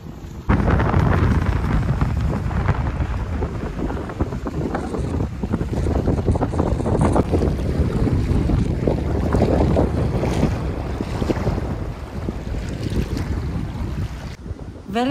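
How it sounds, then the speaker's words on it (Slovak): Strong wind blows hard at the seaside, roaring and buffeting the microphone in loud continuous gusts, with surf and waves churning underneath. "Veľmi fúka, dnes dokonca ani lode nemohli vyplávať na more"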